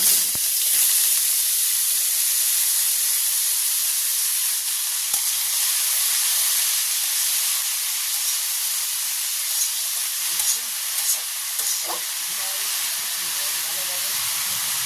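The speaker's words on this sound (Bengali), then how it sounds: "তেল গরম হয়ে গেছে আমি দিয়ে দিচ্ছি" Vegetables dropped into hot oil for a vegetarian curry, frying with a steady, loud hiss and sizzle that holds for the whole stretch, close by, with small pops and clatters over it.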